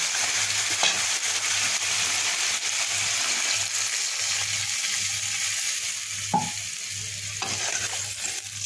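Chicken curry sizzles steadily in a pan as water for the gravy goes in, a continuous close frying hiss with a low hum beneath and a couple of brief clatters, no voices.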